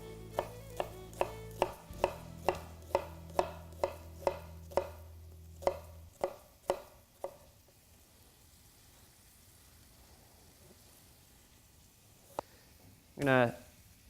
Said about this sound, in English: you start from one side and work your way all the way over to the other side, arcing your knife as you go through it